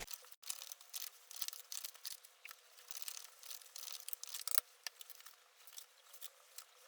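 Soft crisp rustling and snapping of tarot cards being shuffled, a steady run of quick papery flicks close by, fairly quiet, with no talking.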